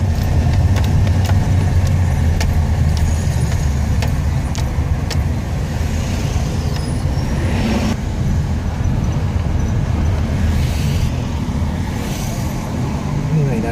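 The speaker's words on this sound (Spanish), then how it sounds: "Aquí ya al menos comienza a coger un poquito de vuelo el carro" A car drives along a road and gradually gathers speed, its engine and tire roar steady and close from inside the cabin, with occasional rattles and brief voices underneath.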